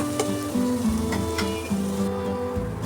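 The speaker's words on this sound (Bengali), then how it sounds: "রসুনটাকে অল্প আঁচে আমি ভালো করে ভাজবো, যাতে রসুনের গন্ধটা তেলের মধ্যে মিশে যায়" Garlic fries in oil over low heat, giving a soft, steady sizzle with light crackles and a few small clinks, close but quiet and without any voices.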